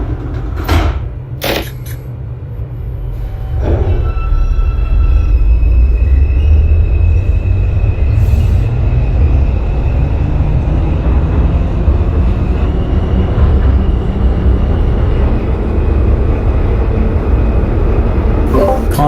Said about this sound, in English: This is a Brooklyn-bound 5 express train via the 7th Avenue line.